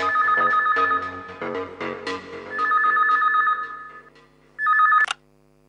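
A telephone rings in a Hindi TV serial scene, repeated electronic ringtone bursts in a steady melodic pattern, loud and close, with short pauses between rings before it stops abruptly.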